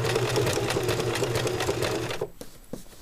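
A sewing machine stitches a zigzag around an applique with a fast, steady mechanical whir, then stops abruptly near the end, leaving a few faint clicks.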